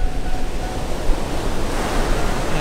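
Sea waves wash continuously beside a luxury beachfront house, a dense steady roar of surf with wind, loud and with no voices.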